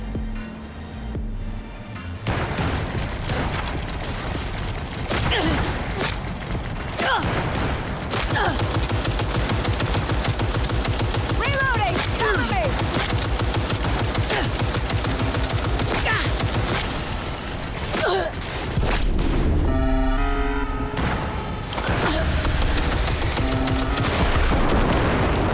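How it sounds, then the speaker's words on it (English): Heavy machine gun fire in Cyberpunk 2077: Phantom Liberty, long rapid bursts of close, loud shots with booming impacts, broken by a few brief pauses. "Oh, we got a heavy machine gun now."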